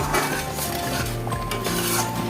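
A spoon stirs chhana payesh, a milk pudding made with fresh cottage cheese, in a pot, giving close repeated scraping and clinking of metal against the pot with a low steady kitchen hum beneath.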